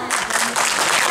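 A crowd at a Kazakh aitys poetry contest claps in steady, dense applause. The sound is close and fairly loud and continues without a break.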